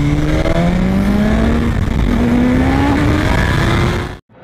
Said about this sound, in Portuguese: Essa daqui é uma Dafra Speed 2008. É uma moto de 150 cilindradas